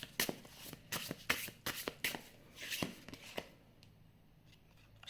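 A deck of tarot cards is shuffled by hand in a series of crisp, riffling bursts and soft slaps, fairly close and quiet, tapering off into stillness near the end.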